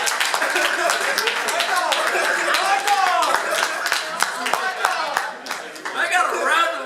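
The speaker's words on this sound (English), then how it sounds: "I got a round of applause." Audience applause at a live fan event discussing video game characters, a dense crowd of claps spread through the room with voices and chatter mixed underneath.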